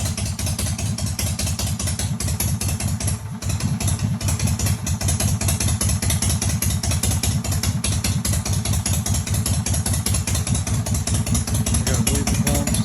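A home-built Powertrexx engine runs steadily at idle after starting, with a dense, loud mechanical rumble and rapid clattering pulses, a brief dip partway through, and no talking.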